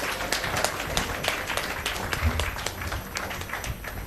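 An audience at a diabetes medical conference in Bihar gives steady, sustained applause after an oration, with many hands clapping together at an even level from start to finish.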